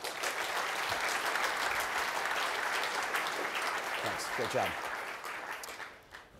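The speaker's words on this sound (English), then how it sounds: "So round of applause for Jason and Jacob." Audience applause fills a Wii U preview presentation hall after a Call of Duty Black Ops 2 multiplayer demo, steady and loud before fading out, with someone speaking briefly over it.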